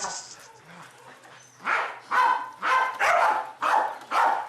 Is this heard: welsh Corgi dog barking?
yes